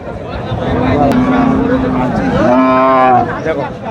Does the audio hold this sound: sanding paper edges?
no